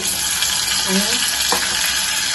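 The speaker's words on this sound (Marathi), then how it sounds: "कांदा फ्राय केला आणि जिरा मोहरी टाकते त्याच्यामध्ये" Cumin and mustard seeds sizzling in hot oil with fried onion in a home kitchen pan, a loud steady hiss and crackle throughout, close up, with faint stirring scrapes and no talk.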